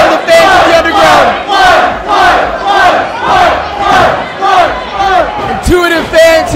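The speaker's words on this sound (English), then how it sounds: "the one chant from the fans of the underground" Wrestling fans at an underground chain rope match chant in unison, a loud rhythmic crowd chant pulsing in regular beats, about two per second, filling the arena.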